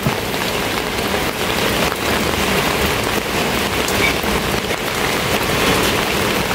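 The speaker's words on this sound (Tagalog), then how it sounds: "Kanina pa umuulan dito." Steady, dense rain falls outside a closed house in Daet, a constant broadband hiss of drops on surfaces that carries on evenly throughout with no voices.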